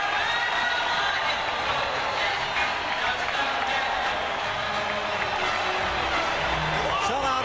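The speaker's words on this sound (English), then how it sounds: "Sellout crowd" Sellout hockey arena crowd at a Dallas Stars versus Detroit Red Wings NHL game, cheering steadily with everybody on their feet, a dense continuous roar of many voices filling the whole stretch.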